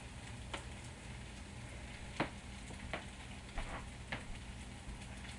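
Butter sizzles steadily in a frying pan while making ramen, a soft continuous frying hiss broken by a few sharp crackles and pops, heard alone with no talking.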